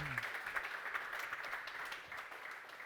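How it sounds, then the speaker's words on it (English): Audience applause at a tech talk on AI agents for editors, steady dense clapping at moderate distance that carries on throughout before easing slightly near the end. "let's give a big round of applause to these two guys."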